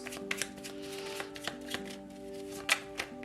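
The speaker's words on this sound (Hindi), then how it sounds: "थोड़े से कार्ड्स लेंगे आपके लिए" Tarot cards being shuffled and drawn, crisp irregular riffles and slaps close by over a steady low musical tone.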